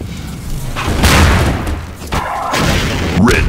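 Rocket launcher fire and explosions in Half-Life 2 Deathmatch, a loud booming blast followed by further heavy thuds and rumbling impacts in quick succession.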